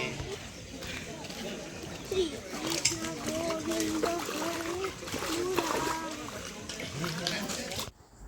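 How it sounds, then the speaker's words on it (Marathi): A small stream flows right beside a temple as children play in it, water splashing and sloshing nearby beneath lively children's voices and chatter. "मंदिराच्या अगदी बाजूलाच हा छोटासा ओढा आहे ना तिथं मुलांनी थोडंसं खेळले"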